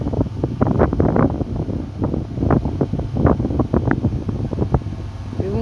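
Cold wind buffets a phone microphone outdoors, producing continuous low rumbling gusts and flutter that fill the whole stretch at moderate level.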